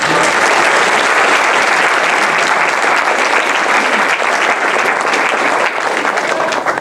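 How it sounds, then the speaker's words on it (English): An audience applauds a vitamin D and calcium researcher after a talk, with loud, sustained, dense clapping filling the room evenly for several seconds and no voices above it. "Give a round of applause to Dr."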